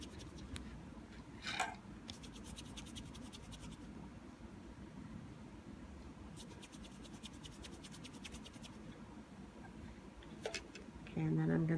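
Rope splice rubbed briskly by hand to build friction and heat: a steady close scratching with a few louder bursts of quick rasping strokes, under faint background noise.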